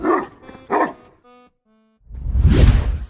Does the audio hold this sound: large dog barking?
yes